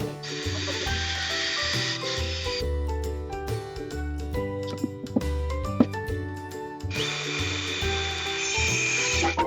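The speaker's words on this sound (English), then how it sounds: "we're installing a couple of simple legs and screwing them into the side rails" A power drill drives screws through simple wooden legs into the side rails of a backyard workstation made from scrap wood, with steady whirring bursts at the start and end and a clattering, tapping middle stretch.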